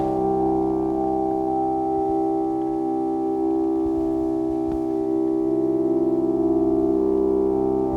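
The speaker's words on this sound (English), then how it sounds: "what you'll get is this pulse that goes back and forth between the two frequencies" A synth patch built in Pigments sustains a rich harmonic tone, pulsing gently as it shifts back and forth between two filter settings, steady and loud with no voice.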